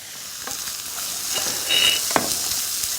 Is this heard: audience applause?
no